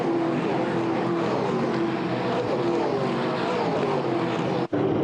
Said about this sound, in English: the sweet sounds of TA2 muscle cars reverberating around Queensland Raceway